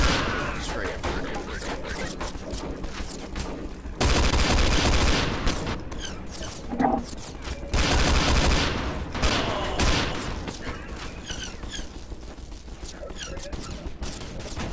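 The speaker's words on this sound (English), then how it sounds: "Who the hell is shooting at me?" Dense, sustained gunfire in the shooter game SMOD Outbreak, loud rapid volleys and bursts rolling almost continuously, with a few brief harder peaks among the shots.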